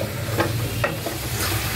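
Onions frying steadily in a pan for biryani barista, browning toward golden, with a continuous low sizzle and a few soft stirring scrapes and no voices.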